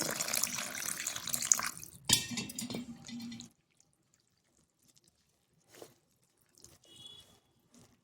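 Water poured onto dough for kai holige, a short splashing pour in the opening seconds followed by a sharp thud and a few faint drips and small kitchen sounds against near silence.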